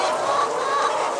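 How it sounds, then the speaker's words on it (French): Hens clucking steadily at close range in a poultry house during egg collection, a dense overlapping chorus of cackles with no voices. "Taisez-vous les poules."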